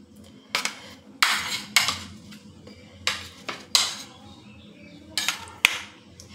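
Fried sweet pumpkin is served onto a plate with utensils at home: a series of sharp clinks and scrapes of metal on dishware, several distinct hits spread irregularly, close and moderately loud, with no talking.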